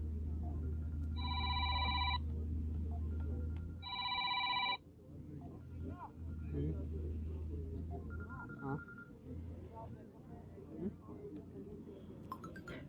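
A mobile phone ringtone interrupts a live stream from a village well rescue, ringing in two short, bright bursts over a low steady hum, followed by people talking nearby.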